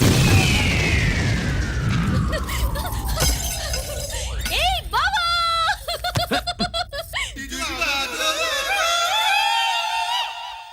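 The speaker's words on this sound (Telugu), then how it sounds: "ఫోర్నాలు బాణాలు బాంబుల్లా ఫేలిపోయినాయి ఏంటి?" Firecrackers and rockets go off in a Telugu comedy film scene: a long falling whistle, then a sharp burst and a run of crackling pops and bangs, with voices and laughter over the noise.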